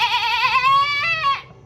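A person imitates a lamb's bleat: one drawn-out, wavering 'baa' that rises and then trails off, close and clear.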